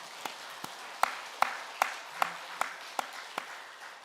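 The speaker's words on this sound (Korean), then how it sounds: "우리 찬양대의 감사와 하나님께 영광의 박수 올려드리겠습니다" Church congregation clapping for the choir after a hymn on Parents' Sunday, a sparse, slow series of about nine distinct claps in a steady rhythm in a quiet hall, with no voices over it.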